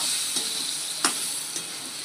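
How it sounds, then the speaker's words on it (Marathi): Tomatoes hit a hot pan of masala for a Maharashtrian prawn curry (kolambi rassa), giving a soft, steady sizzle with a few light stirring scrapes, heard close but quiet and without talk. "आता याच्यामध्ये आपण टाकणार आहे टमाटर"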